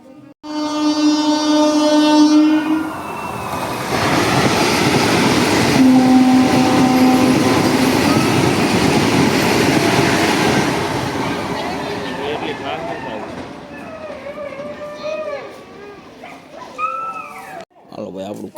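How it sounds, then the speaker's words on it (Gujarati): An electric train rumbles past near Junagadh with a loud, steady roar for several seconds, horn-like tones sounding early on, while voices and a dog's barks come through at times. "અત્યારે છૂક છૂક ગાડી આવે છે ઇલેક્ટ્રિક તમને બતાવું"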